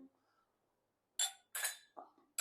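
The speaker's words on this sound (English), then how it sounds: "So let's clink them and drink them." Whiskey glasses clinked together in a toast during a Weller bourbon lineup tasting, several bright separate clinks close to the mic after a quiet stretch.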